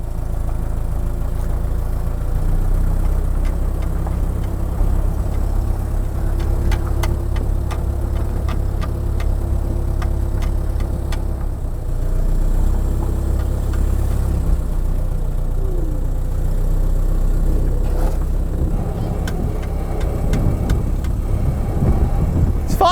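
Freshly restored classic Mini engine running steadily at a low, even idle for a long stretch, close and constant, with brief voices and some clicks and rattles over it.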